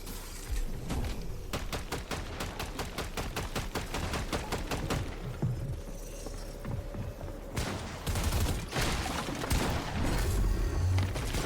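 Rapid gunfire in a competitive online shooter game rattles off in quick repeated bursts, close and loud, with short pauses between volleys and more shooting resuming toward the end.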